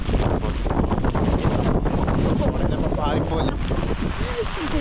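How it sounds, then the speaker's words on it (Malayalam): Strong wind after heavy rain buffets the microphone with a loud, constant roar, with water sloshing nearby and brief voices partly buried in the gusts. "അതെ നല്ല കാറ്റുമാണ്"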